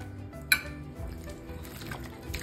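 Half a lemon is squeezed over chicken marinating in green masala for Goan chicken xacuti, a faint wet squish and dripping after a single sharp clink of a dish.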